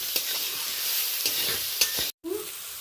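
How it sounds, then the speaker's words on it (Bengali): Ginger paste is stirred into nearly cooked vegetables for spicy semolina. A close sizzle runs under several scraping stirs, then drops out briefly before resuming. "আদা বাটাটা ভালো করে নেড়ে চেড়ে মিশিয়ে নেব সমস্ত সবজির সাথে"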